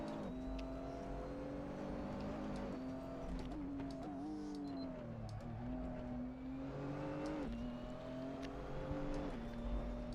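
A race car engine on the Nürburgring drones loudly from inside the cockpit, its pitch rising and dipping as it revs through gear changes, with no speech.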